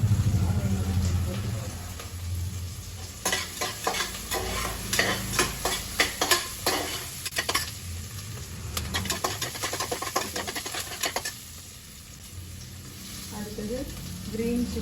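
Curry leaves, green chili and tomato sautéing in a hot pan, a continuous oily sizzle broken by bursts of spatula stirring and scraping, with a voice talking over the cooking.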